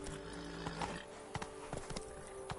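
Roach the horse trots in the video game Witcher 3: Blood and Wine, with quick clip-clop hoofbeats in an uneven rhythm over a steady background hum, fairly near and moderately loud.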